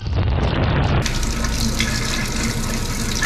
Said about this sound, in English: now we're going to try the hot water coming out of the kitchen for the first time